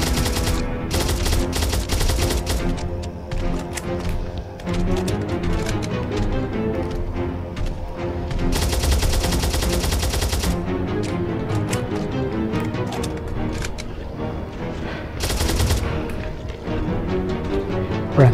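Bursts of rapid machine gun fire in the horror game Fobia: St. Dinfna Hotel, loud sustained rattling volleys separated by short pauses and sharp single shots.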